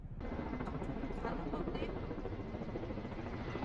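A helicopter passes low over a walking trail in the highland city of Taebaek, its loud, steady rotor and engine roar filling the whole stretch up close.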